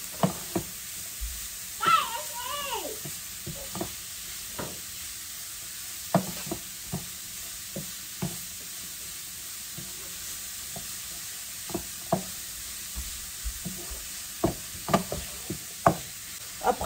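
Cauliflower rice frying in a pan while being stirred, with a quiet sizzle under repeated knocks and scrapes of a utensil against the pan, and a brief voice early on.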